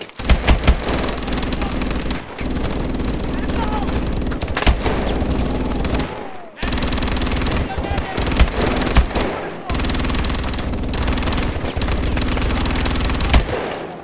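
Rapid automatic gunfire in Call of Duty: Advanced Warfare multiplayer, long sustained bursts of loud, close shots broken by two brief pauses, with a few heavier booming hits mixed in.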